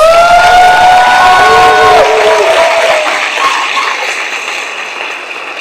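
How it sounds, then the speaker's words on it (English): Audience at a show greeting a royal guest with loud sustained applause and cheering, whistles and shouts on top, slowly fading over several seconds. "He deserves a bigger round of applause."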